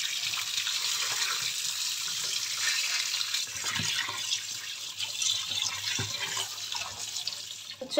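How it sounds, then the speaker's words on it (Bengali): Running tap water pours steadily into a sink as mutton is washed, a continuous hiss with occasional splashes and clinks, close and moderately loud. "চলো, মাংসটা ধুয়ে নিয়েছি"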